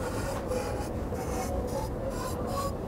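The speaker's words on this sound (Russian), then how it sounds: "Это пила по газобетону." A handsaw for aerated concrete, its blade carrying a protective coating, rasps back and forth in steady, evenly spaced strokes, close and fairly loud with no voices.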